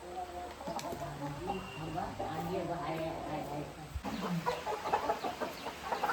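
Chickens clucking on a poultry farm, several birds close by in a steady, overlapping chatter, with shuffling and people talking softly in the background.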